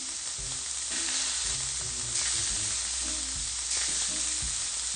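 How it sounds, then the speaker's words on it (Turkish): Chopped vegetables sizzle and fry loudly in a hot pan, a continuous crackling hiss with occasional stirring scrapes. "Şimdi doğradıklarımızı pişirelim."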